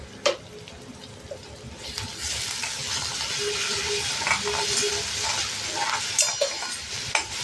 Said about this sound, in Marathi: आणि बारीक गॅसवर परतून घेऊया